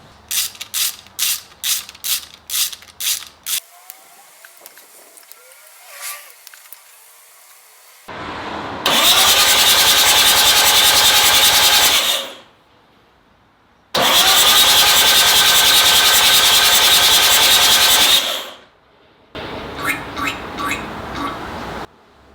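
An engine cranked over for the first time in three and a half years cranks with a rapid rhythmic chatter, then catches and roars loudly in two long sustained runs, settling into a rough idle, with no talk.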